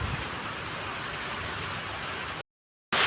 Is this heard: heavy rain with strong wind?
yes